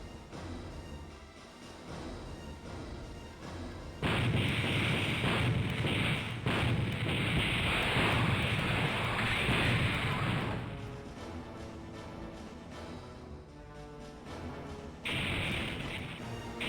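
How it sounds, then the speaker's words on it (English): Ship guns firing on a target vessel in the space strategy video game Infinite Space, a loud sustained roaring barrage of blasts that swells, holds for several seconds, then fades under a game soundtrack. "Gunnery crew, open fire on target ship."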